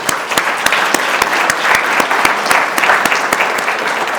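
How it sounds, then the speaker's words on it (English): Sustained, dense applause from an audience at a veterans' hall of fame ceremony in Wichita, Kansas, loud and steady throughout with sharp individual claps standing out near the listener. "please, everybody, give Chief Grant an applause"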